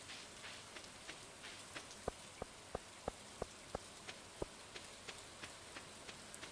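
Video game rain hisses softly and steadily in the background, faint and even, while a regular series of sharp ticking steps or taps sounds over it.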